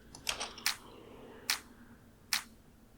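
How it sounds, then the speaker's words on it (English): Pre-shifted clap sample layered in a progressive psytrance drop, a few sharp, bright clap hits spaced irregularly over a faint low backing, loud and close with no voices. "And then we have this pre-shifted clap"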